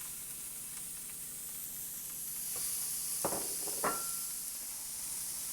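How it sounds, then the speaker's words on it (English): Steady sizzling of burgers frying on a hot griddle, a constant hiss with a few brief scrapes near the end. "As your burgers are frying"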